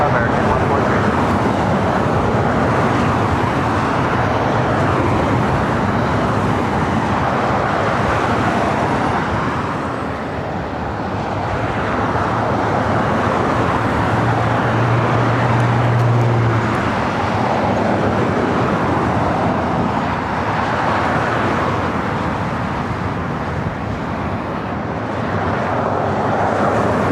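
A jet airliner takes off at LAX, a loud, sustained broadband roar that holds steady for nearly half a minute and dips briefly midway.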